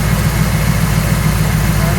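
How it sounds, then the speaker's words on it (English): A 1970 Camaro Z28 tribute's engine idles loudly and close up, a steady low rumble with a rhythmic lope under a constant wash of noise. "engine seems like it's running nice and cool"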